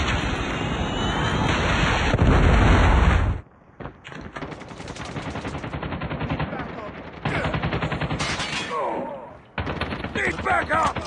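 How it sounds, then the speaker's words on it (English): Loud, continuous bursts of automatic gunfire and blasts during a Call of Duty team deathmatch, cutting off abruptly and then resuming with rapid shots, mixed with game voice callouts. "Predator missile inbound."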